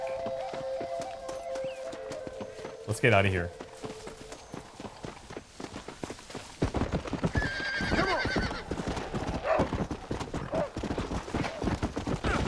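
A horse's hooves clip-clop along in Red Dead Redemption, with a loud whinny early on and galloping hoofbeats building later, a voice talking over the game sounds.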